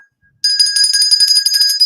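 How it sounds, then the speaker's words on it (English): A bell rings once after a short silence, sustaining a bright, steady metallic tone that lingers without fading for over a second, loud and close with no talk over it. "the levity bell"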